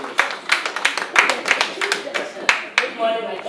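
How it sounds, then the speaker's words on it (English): Applause for a teacher introduced at a curriculum workshop in Ibadan, a small group giving sparse, uneven claps close by, mixed with murmuring voices. "A round of applause for her."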